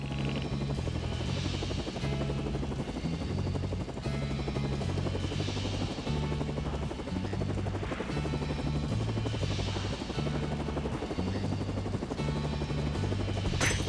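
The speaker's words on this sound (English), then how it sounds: "Can't believe he owns a fucking helicopter." A helicopter in the video game No Straight Roads, a steady rhythmic rotor thump with a continuous engine drone layered under game music, loud and unbroken throughout.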